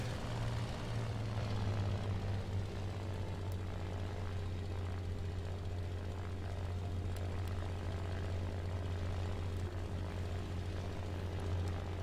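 A propeller aircraft in the War Thunder video game drones steadily while landing, with a loud, even low engine hum and a few faint clicks and knocks riding on top throughout.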